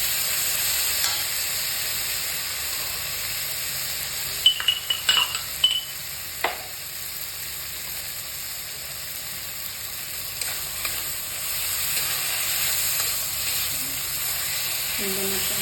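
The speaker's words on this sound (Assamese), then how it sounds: "পিঁয়াজখিনি অলপ ভাজি ল'ম।" Onions fry in a pan for an Assamese-style egg curry, a steady sizzling hiss throughout with a few clinks of a utensil stirring near the middle.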